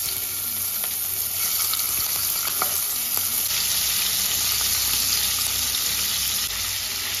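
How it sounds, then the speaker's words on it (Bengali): Prawns held straight with toothpicks fry in hot oil, a loud, steady, close sizzle that holds throughout with no voices. "এবার চিংড়ি মাছগুলো ভেজে নেব।"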